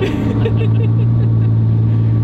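A turbocharged Porsche with a 3.5-inch race exhaust idles with a deep, loud exhaust drone, steady and close, with a low throbbing hum throughout.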